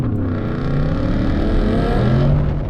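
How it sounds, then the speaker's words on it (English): A 2025 RTR Mustang Spec 3 engine roars hard at close range, pitch climbing steadily as it revs under load during a launch with wheel spin. "Wheel spin, traction's on."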